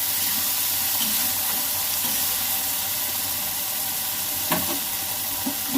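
Green chillies and tomatoes frying in a pan give a dense, constant sizzle with a few faint stirring scrapes, close and steady, no speech.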